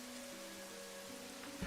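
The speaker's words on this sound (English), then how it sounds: "I took the opportunity because it's raining" Soft, steady rain falls in a video game world, a faint even hiss beneath low sustained tones, ending with a brief bump.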